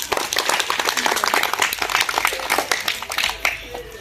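A group of children clap together at an outdoor Independence Day celebration in a village, a dense, steady patter of many small hands close by and fairly loud, continuing without a break.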